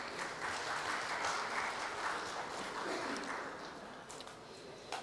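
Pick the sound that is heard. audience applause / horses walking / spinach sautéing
audience applause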